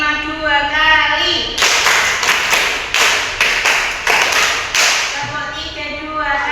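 Elementary school children clap in unison to a counted pattern, two sets of five sharp, loud claps separated by a short pause, with someone speaking before and after.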